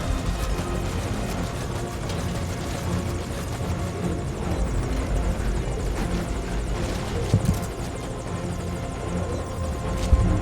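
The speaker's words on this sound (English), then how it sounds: "Now get in the chopper." Helicopter from the video game Metal Gear Solid V Ground Zeroes, a loud, steady rotor and engine roar that fills the whole stretch with no talk, with a couple of brief thumps near the end.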